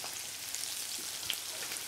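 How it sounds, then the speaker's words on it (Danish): Turbot covered in a potato-scale crust fries in a hot pan and gives off a constant close sizzle with small crackles and pops. No one speaks over it. "den der liflige lyd der, når det står og steger"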